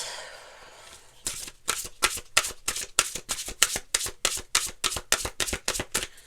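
Tarot cards being riffle-shuffled by hand, a quick run of about a dozen sharp, crisp bursts in steady rhythm, close and fairly loud after a quiet start, with no voice over them.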